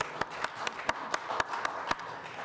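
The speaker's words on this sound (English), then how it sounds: "let's give him a big round of applause for stepping up" Sparse, scattered clapping from a small committee meeting audience welcoming a new board member, about ten separate claps spaced irregularly and fairly faint in a quiet room.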